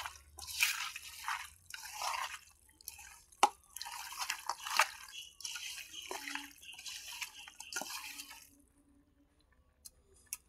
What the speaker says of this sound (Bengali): সব কিছু দিয়ে মিশিয়ে নেওয়া হচ্ছে।